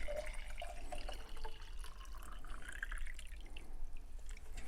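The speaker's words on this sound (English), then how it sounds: "we're going to take the other jar that has the salt water in it, and of course we're going to fill the other 2 jars just like that" Salt water pouring from a jar into two other jars, a continuous splashing, trickling stream with small drips, close and moderately loud, no talk.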